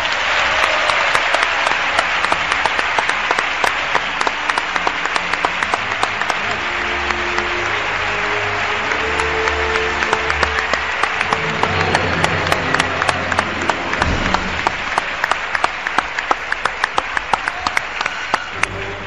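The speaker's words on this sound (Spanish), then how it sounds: "Un aplauso, por favor." Sustained, loud applause from a theatre audience at a live show in Cádiz, dense clapping holding steady for nearly twenty seconds without speech.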